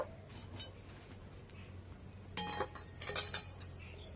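A kadai wok is set down in a home kitchen with a few clinking metal knocks, quiet at first and then a short cluster of louder clatters toward the end.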